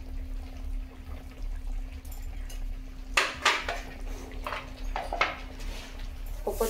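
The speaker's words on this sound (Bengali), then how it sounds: "ঘি দিয়ে দেবো 1 চামচ।" A spoon clatters against a pan as ghee goes into pointed gourd rezala, with a few close metallic clinks and scrapes over a low steady hum.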